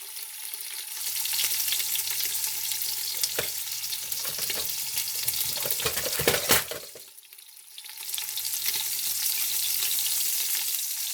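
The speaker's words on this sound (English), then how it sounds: "Put our sausages in, start frying up a little bit." Steady crackling sizzle of sausages frying in hot grease, broken by a brief louder burst of spattering and stirring midway, then settling back to a constant hiss.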